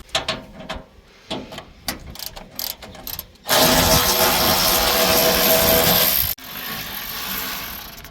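A ratchet wrench driving bolts into a combine, close and loud: rapid clicking bursts at first, then a sustained whirring run that cuts off and drops to a quieter steady whir.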